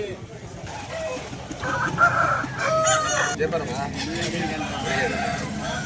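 A native rooster crows close by at a busy rooster market in Vijayawada, with people talking throughout and other fowl calling in the background.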